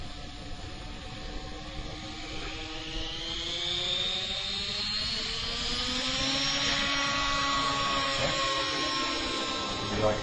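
A radio-controlled helicopter performs an autorotation, its rotor and motor whine sweeping in pitch as it descends and changes speed, a steady mid-distance drone with wind noise over about ten seconds.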